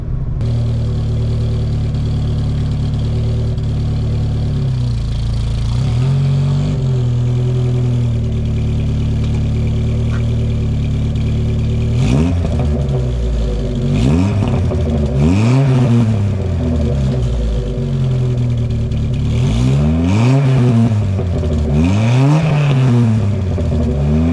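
A Volkswagen Mk2 Jetta engine with a manual gearbox pulls hard at full throttle, droning steadily before rising in repeated revving sweeps as it climbs through the gears, loud and close with no talk.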